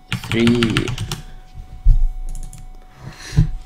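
Quick clatter of typing on a computer keyboard while making a Cinema 4D and After Effects intro, with a voice talking over the keystrokes and a few isolated key taps afterward.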